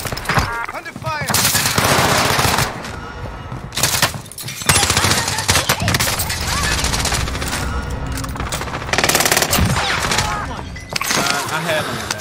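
Automatic gunfire in the Warzone shooter game, long loud rattling bursts with short pauses between them, with players' voices talking over the shooting.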